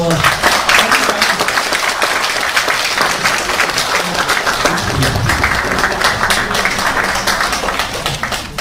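A large audience at a talk on productivity and innovation claps vigorously and continuously for over eight seconds, a loud, dense roar of hands with faint voices mixed in underneath.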